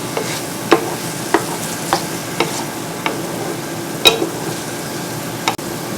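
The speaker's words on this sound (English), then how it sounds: "Be sure to stir to make sure the onions and the garlic do not burn." Onions and garlic cook in a pan with a steady soft sizzle while a spoon stirs them, producing sharp scrapes and taps about every half second, close and unaccompanied by voices.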